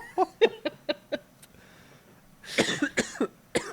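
Several short, sharp coughs in a quick series, then a burst of rougher coughing mixed with laughter, fairly close and moderately loud.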